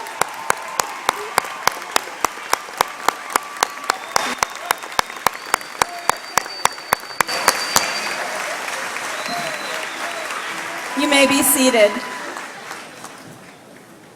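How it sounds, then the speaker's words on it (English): A large crowd at a 2016 Manassas Park High School graduation gives a sustained standing ovation for graduating students, with sharp regular claps throughout and a swell near the end as an amplified voice speaks. "Will the audience please give the students in Section B a standing ovation?"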